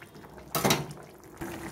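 Water is poured into a pot of simmering potato and chickpea curry in one short, bright splash lasting about a quarter second, then a softer wash of sound follows.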